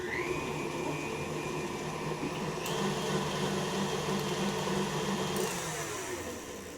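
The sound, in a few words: stand mixer with paddle attachment creaming ingredients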